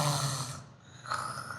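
A person imitates snoring in a short, nasal snort, followed by a brief breathy rasp, close and moderately loud.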